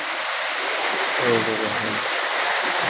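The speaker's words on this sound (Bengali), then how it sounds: "প্রচন্ড জোরে বৃষ্টি নেমে গেছে" Steady, dense rain hiss fills the scene, with a brief voice-like murmur partway through.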